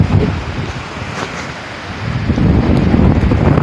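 Strong wind gusts buffeting the microphone during a sudden dust storm outdoors, a continuous low roar that swells louder and rougher in the second half, with no voices.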